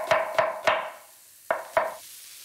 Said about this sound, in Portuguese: Estou aqui a fazer uns furinhos na laranja.